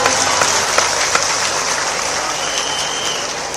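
Dense applause from a large audience at a public political event with Madhya Pradesh's chief minister in Indore, a loud, even roar of clapping lasting a few seconds with no break.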